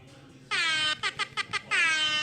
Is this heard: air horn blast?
yes